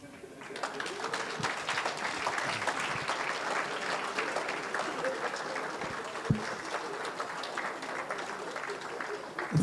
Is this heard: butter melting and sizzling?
no